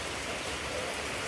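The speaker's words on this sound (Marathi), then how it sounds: "पाऊस चालू आहे मस्त" The first monsoon rain falls in a soft, even hiss of drops on surfaces, quiet and steady for a brief moment with no voices.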